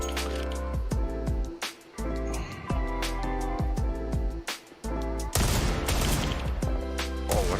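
Gunfire in a Counter-Strike match rings out as sharp, repeated rifle shots and bursts, loud and close, with brief gaps of quiet between volleys.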